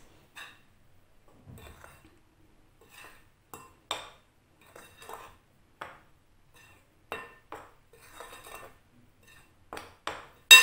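Sugar and dry ingredients being stirred in a bowl for cheese khoobs bread dough, a sparse string of light clinks and scrapes of utensil against bowl in irregular taps, quiet and close with silence between.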